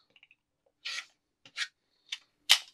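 Quilt fabric being trimmed with scissors, several short crisp snips and rasping cuts in quick succession, close and quiet, with no talking.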